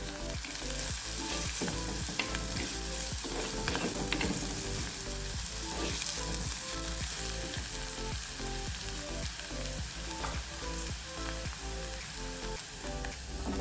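Crushed garlic and ginger sizzle steadily in hot oil in a pan while a spoon stirs them, with regular scraping strokes against the pan heard close and clear over a constant frying hiss.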